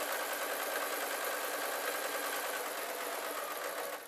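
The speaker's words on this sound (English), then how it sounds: "I'm still going to do that couple of reverse stitches just to give it some strength" A domestic sewing machine runs continuously while stitching reverse stitches on fabric bunting, a steady close mechanical whirr with rapid needle chatter that holds evenly before easing slightly at the very end.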